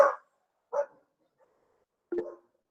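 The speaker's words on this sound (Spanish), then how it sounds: "hay unos perritos ladrando" Dogs bark in the distance outside a home during an online class, three separate short barks spaced apart with quiet between them, no talk heard.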